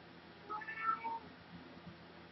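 A cat meows in a few short, moderately loud cries packed into the first second or so, then quieter fainter mews trail off over a low background hum.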